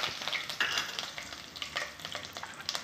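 Mustard seeds and curry leaves fry in hot oil in a pan, giving a close, steady sizzle with faint crackles and spoon-stirring scrapes throughout, no voices.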